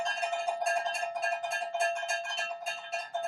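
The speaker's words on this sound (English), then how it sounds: "Ring the bell, Sean." A bright metallic bell clangs rapidly and repeatedly in an uneven rhythm, ringing close and clear with no voices.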